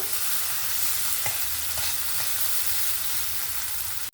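A spice mix with Kashmiri chilli powder and salt is stirred and fried in a pan for a pabda fish curry, giving a steady close sizzle with scraping stir strokes throughout and no talk.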